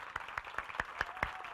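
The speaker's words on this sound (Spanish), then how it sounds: "un aplauso a nuestras presentadoras" Faint, fairly regular claps spaced about a fifth of a second apart are heard as applause for presenters at a talk event, sounding sparse and quiet rather than like a full crowd.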